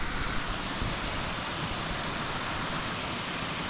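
Waterfall at Hanging Lake in Colorado, a continuous broadband rushing roar, steady and fairly loud, with no pauses or talk.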